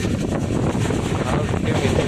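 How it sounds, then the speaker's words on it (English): Strong wind buffeting a microphone aboard a fast-moving train near Hubballi at night, heavy low rumbling gusts filling the whole clip, with a faint voice underneath. "Now it's windy."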